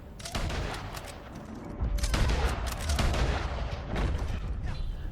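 Rifle gunfire rattles through Red Dead Online during the Legendary Bounty for Carmela "La Muñeca" Montez, a dense, continuous volley of overlapping shots and booms, with a voice narrating underneath.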